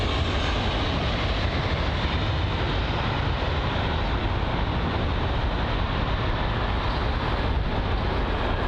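A British Airways Boeing 777 in oneworld livery at Heathrow produces a steady, even engine roar at moderate distance, unbroken and without speech.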